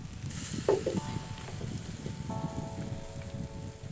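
Fish brushed with oil and butter sizzles gently on a pan in a home kitchen, a soft continuous fry close by with faint crackle and a few light clinks.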